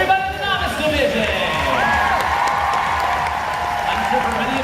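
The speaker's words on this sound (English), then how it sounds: "A big round of applause to everybody in the novice division." An audience at a cosplay contest applauds the novice division, a dense crowd of clapping with a few whoops and cheers, steady and fairly loud, with some voices mixed into the noise.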